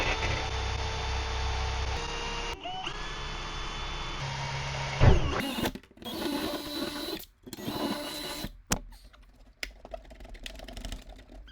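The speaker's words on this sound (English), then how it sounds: "we'll get the drill fired up here and we'll get drilling some holes" A power drill bores out spot welds on a salvage 5.0 Mustang body. The motor whines and grinds steadily, then breaks into shorter bursts separated by pauses toward the end.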